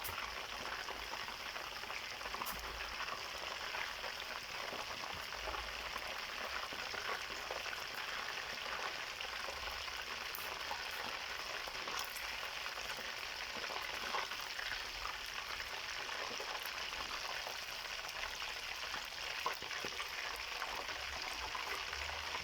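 Chicken pieces deep frying in hot oil, a dense, steady crackling sizzle that carries on unbroken and evenly for the whole stretch, close by and with no voices over it.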